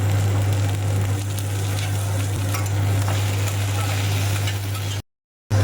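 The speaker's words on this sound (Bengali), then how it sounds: "পেঁয়াজটা একটু ভাজা হয়ে গেছে লাল লাল তো এরপরে আমি এর মধ্যে অ্যাড করব এই যে টমেটো" Tomato and browned onions frying together in a pan, a steady close sizzle with stirring scrapes and a low constant hum underneath, cutting to silence near the end.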